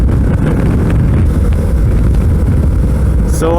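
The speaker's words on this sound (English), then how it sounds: "It's very windy." Steady wind roar buffets the microphone on a cold, windy ride aboard a Suzuki V-Strom 650 motorcycle, a dense, continuous low rumble with no talk.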